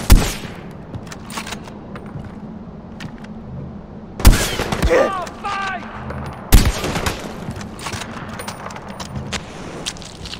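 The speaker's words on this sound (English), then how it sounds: "I'm on the machine gun! Don't take your finger off the trigger!" A mounted machine gun fires in the video game Far Cry 4, loud and close, in a few sharp bursts with quieter battle noise between them.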